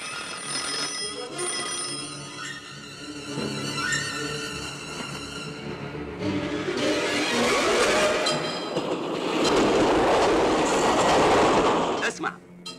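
A train passes in a scene from the Egyptian film about a train, its steady rumble and clatter building through the second half toward a loud close pass, while voices speak over the early part.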